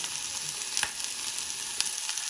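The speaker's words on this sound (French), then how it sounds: "On met notre beurre. On met les champignons direct. Et on va les laisser cuire gentiment." Mushrooms sizzle and fry in butter in a pan, a steady close hiss with a couple of soft pops and stirring clicks, no voices.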